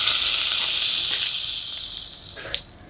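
Onion dropped into melted butter in a pan, giving a bright hissing sizzle that starts strong and slowly fades, with one brief sharper spit near the end.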